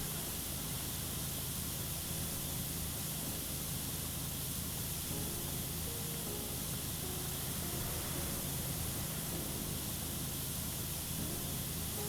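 A pressure washer in the video game PowerWash Simulator sprays in a steady, unbroken hiss that stays at an even level for the whole stretch, with no voices over it.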